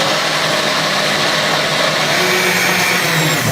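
A blender blitzes potato pancake batter for Brazilian panquecas de batata, a steady, loud, continuous whirring drone that holds evenly throughout with no talking.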